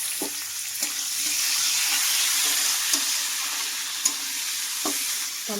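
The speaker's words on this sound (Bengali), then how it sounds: "টমেটোটা একটু ভাজা ভাজা হয়" Chopped tomatoes sizzle and spit steadily in hot oil for a fish curry, with a bright continuous frying hiss and a few soft clicks of stirring against the pan, close and clear with no talking.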